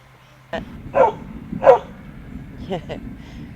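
A dog barks a few times, short separate yelps and woofs spread over a few seconds, fairly close, with a quiet background hum.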